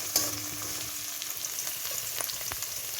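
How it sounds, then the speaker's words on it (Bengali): Chopped onion, ginger and garlic fry in a pan with a constant close, bright sizzle, broken by a few faint clicks and scrapes of stirring. "এরপর দেব রসুন কুচি দিয়ে এটাকে ভালো করে ভাজবো।"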